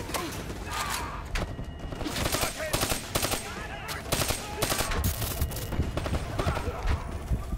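Rapid automatic gunfire in Call of Duty: Black Ops III bursts in repeated volleys across a busy battlefield mix, loud and near, with a few voices talking over it.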